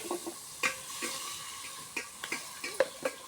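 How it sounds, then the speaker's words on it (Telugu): Onions and tomatoes sauté in a pan for a ridged gourd and tomato stew, giving a steady close sizzle broken by several sharp scrapes and clinks of a spoon stirring against the metal. "ముందైతే ఆనియన్స్ అన్నీ వేసి మగ్గించుకుంటున్నానండి. టమాటాలు కూడా వేసాను."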